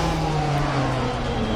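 A Lancia 037 rally car in DiRT Rally 2.0 drones steadily close by, its engine tone sliding gently lower as it spools down on a Polish gravel stage, with no talking over it.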